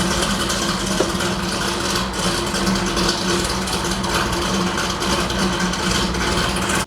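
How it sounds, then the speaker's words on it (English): A 1968 Chevrolet Camaro SS track car idles steadily through its exhaust, producing a continuous, loud, even rumble with no breaks, close by and alone. "It is beautiful, and I could listen to that exhaust all day."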